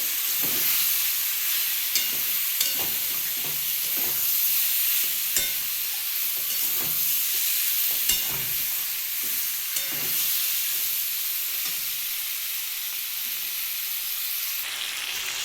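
A spiced vegetable mixture with a little sugar stir-fried in oil, giving a loud continuous sizzle and hiss with regular spatula scrapes and clacks against the pan, alone without talk.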